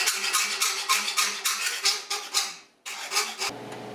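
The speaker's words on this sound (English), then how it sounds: "Looks like I need to trim these sides a little. Just pulling off about a blade's width." A saw trimming the sides of a steel bracket for the front air struts of a 1976 Mazda RX-5 Cosmo: a quick run of about a dozen rhythmic rasping strokes up close, then a brief pause and a low hum.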